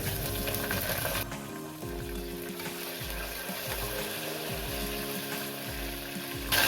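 Sprouts and onions fry in a pan with fresh mint, sizzling steadily under the sound of stirring, with a louder burst of sizzle right at the end.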